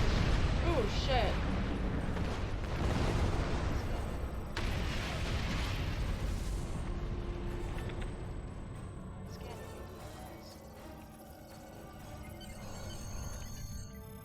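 An Undine Dreadnought starship blows up in the space game Star Trek Online, a loud rumbling blast with crackling bursts that slowly decays into a lingering roar, with a person talking over it.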